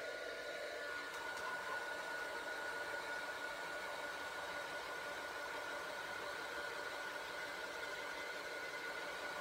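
A heat gun or hair dryer drying alcohol ink artwork, a steady airy whooshing roar that runs unbroken for nearly ten seconds, close and even in level.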